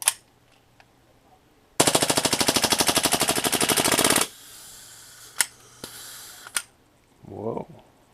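A PFAM98 airsoft pistol running on nitrogen empties a magazine in a fast, loud burst of sharp mechanical shots lasting over two seconds, followed by a few isolated clicks and a brief voice.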